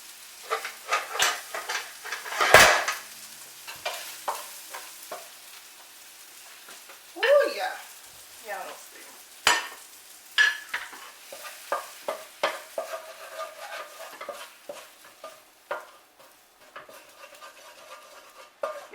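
Scraping and stirring of Mexican-style skillet corn being moved from the pan onto a plate, with repeated close scratchy strokes and a faint sizzle underneath; a few louder scrapes stand out.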